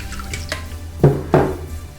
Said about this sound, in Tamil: இப்போ கம்பை நல்லா கழுவிட்டு